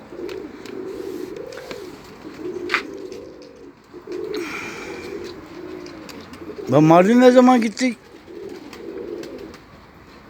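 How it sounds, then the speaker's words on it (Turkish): A pigeon coos in a soft, repeated rhythm, several low rounded calls spaced through the scene, close by, with a brief burst of louder chatter and people talking over it. "Kalkmış arkadaşlar bak tekrar geldi kuş."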